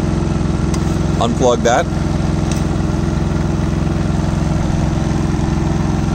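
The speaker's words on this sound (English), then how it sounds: "I'll leave the generator to run until it dies" A 4500 watt 120V portable generator engine idles at a constant, loud, close-up drone with a steady low rumble the whole time, while a person briefly speaks over it near the start.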